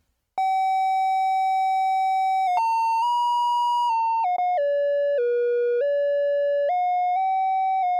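A synthesizer pad plays a clean, tone-like sustained note that steps and glides between pitches, with a slight wobble from LFO depth. It sounds loud and alone, with no voices.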